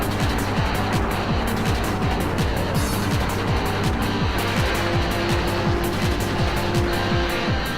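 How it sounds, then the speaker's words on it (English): McLaren 570S and RT12 race cars roaring down a track straightaway at over 200 miles an hour, a loud, sustained high-revving engine drone with rapid rhythmic gear-shift pulses throughout. "The RT12 is cracking over 200 miles an hour."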